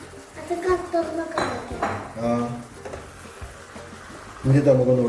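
Metal spoon scraping and clanking around a pot of Kerala-style chicken curry, with repeated stirring knocks and scrapes over a faint sizzle, loud and close, and no talking.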